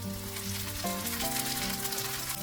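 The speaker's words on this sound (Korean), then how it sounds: "팬에 기름을 넉넉하게 두르고 고등어를 구워주는데요." Mackerel fries in a generous layer of oil in a pan, a steady close sizzle running continuously beneath tonal background music.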